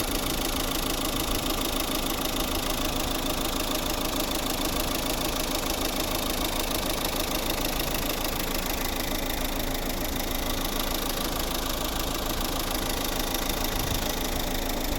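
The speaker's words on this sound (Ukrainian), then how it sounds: "Ось робота двигуна." A 2009 Renault Grand Scenic 1.9 dCi diesel engine idles steadily and close by, a continuous rough, knocking rumble that stays even throughout with no voices.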